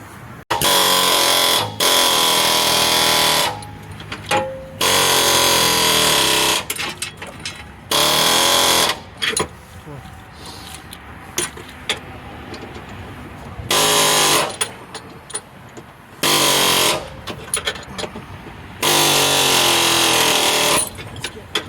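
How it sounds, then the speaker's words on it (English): A Dremel rotary tool works on a broken Chevy HHR, giving loud, close bursts of high, steady whining that start and stop repeatedly with quieter pauses between runs. "Give me that little Dremel friend you have."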